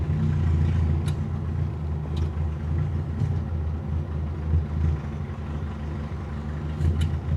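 A barn-find Peugeot 304 running steadily while it is reversed a couple of feet, giving a continuous low engine rumble close by, with a few faint squeaks or clicks over the top.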